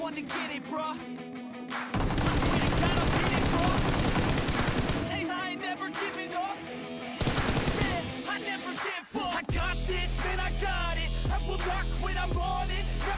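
Rapid, loud M4 rifle fire rattles in long bursts in a battle royale shooter, with dense overlapping shots, pauses between volleys and more single shots near the end, under constant game sound.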